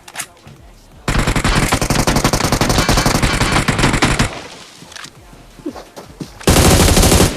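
Gunfire in the mobile game PUBG Mobile: a long, loud, sustained burst of automatic fire followed by scattered single shots and another heavy burst, with players talking over it.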